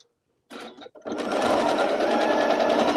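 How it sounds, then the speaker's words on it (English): A sewing machine stitching across fabric for a drawstring bag: a short start-stop whir, then a steady, close mechanical hum of continuous stitching with no talk. "I'm still going to stitch right across it, no problem"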